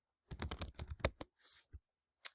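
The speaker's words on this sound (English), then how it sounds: "So you type in your first name or your student's first name" Quick close keystrokes on a computer keyboard tap out a short name in a rapid burst, followed by a brief pause, a soft shuffle and one final key press.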